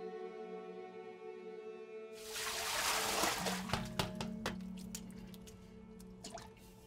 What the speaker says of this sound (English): all these little bubbles boop, boop, boop, popping up